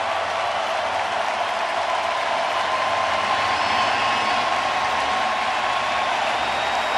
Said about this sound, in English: Framber Valdez going to get a great show of appreciation from this sellout crowd